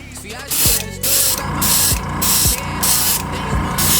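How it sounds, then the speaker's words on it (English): An airbrush sprays paint through a vinyl stencil in loud, hissing bursts of about half a second each, separated by short pauses and faint mechanical clicks. "I didn't clean my airbrush out good enough"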